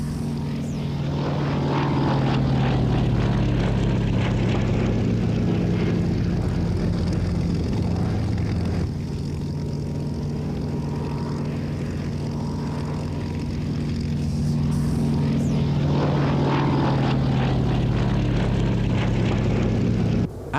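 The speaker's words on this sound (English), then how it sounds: "Representing the Fleet Air Arm was the Fairy Swordfish of the Royal Naval Historic Flight, flown by Lieutenant Commander David Laws." A Fairey Swordfish biplane of the Royal Naval Historic Flight drones over Duxford, its propeller engine a loud steady rumble that swells, eases slightly midway and builds again as it passes, with no voices.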